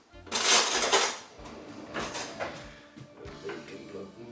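Big blunt knife cutting and trimming pelmeni dumplings on a board, a few knocks and scrapes against the wood, loudest at the start, with scattered softer taps afterward.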